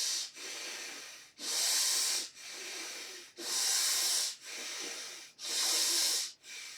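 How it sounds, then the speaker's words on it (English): Deep belly breathing during meditation: slow alternating inhales and exhales, each a long airy hiss lasting about a second, close to the microphone and repeating in an even rhythm, with stronger and softer breaths alternating. "You can make out through the noise the way I'm breathing."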